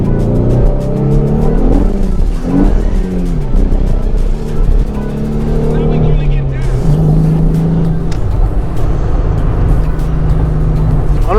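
A 3.7 V6 Mustang with Mac Flo Path mufflers, its exhaust droning loudly and close with revs rising and falling throughout, while someone talks over it.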